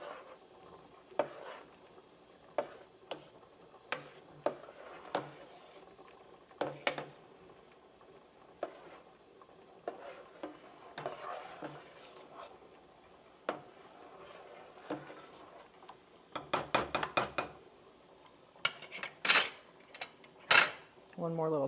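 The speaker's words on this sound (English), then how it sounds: "Give this another stir." A spoon stirs spaghetti sauce in a pot, producing scattered clinks and scrapes of metal on metal in an irregular rhythm that bunch into a quicker burst of clatter near the end, close and fairly quiet.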